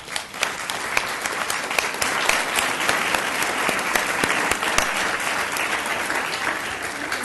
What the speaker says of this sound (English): So just want to give them a round of applause first.